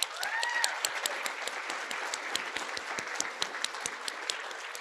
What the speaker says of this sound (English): So I just wanted to give them a round of applause.